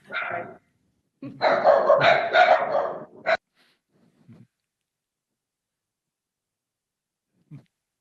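Dogs barking, one short bark followed by a rapid cluster of several loud, close barks, then silence with a couple of faint yips.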